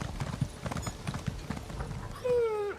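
Horse hooves clip-clopping in the video game Elder Scrolls Online, a steady rhythmic series of hoof beats on hard ground, followed by a short horse whinny at the end.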